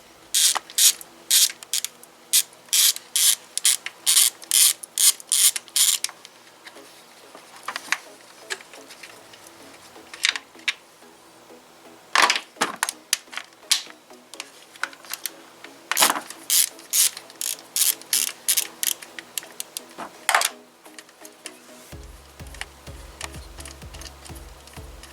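A ratchet wrench clicks in quick bursts while bolts come off a Kia timing chain cover, the short runs of crisp ratcheting separated by pauses and a low hum near the end, with no talk.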